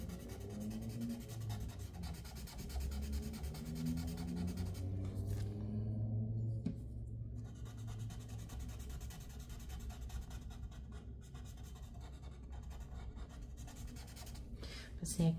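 Pencil on paper is smoothed and blended with Gamsol, giving a continuous close scratchy rubbing that runs without a break, with quiet talk now and then.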